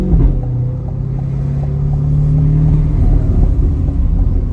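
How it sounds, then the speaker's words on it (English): A deep, loud exhaust rumble from an idling C8 Corvette with a titanium exhaust, steady and throaty with a low droning tone throughout. "this is a very, very loud exhaust"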